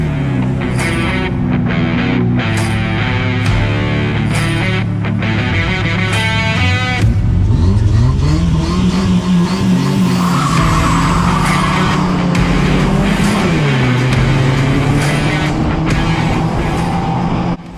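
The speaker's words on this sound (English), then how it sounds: "the green flag's dropped for the final time today, and my dad's got a great start there" Race cars roar off the line at the start of the final at Cowdenbeath Racewall, engines loud and close with rising revs, tire squeal and skidding as the pack accelerates, with no talk.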